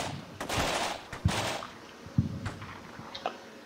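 Gunfire in the video game Combat Mission Shock Force 2 during a Marine ambush at dusk: several sharp, whip-like shots crack at irregular intervals over a steady, noisy battle backdrop, fairly close and loud.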